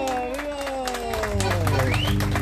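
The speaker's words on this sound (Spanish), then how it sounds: "¡Fuertes aplausos!" A crowd at a Santa Catalina festival celebration claps and cheers, with sustained applause mixed with gliding tonal voices or music and a general hubbub.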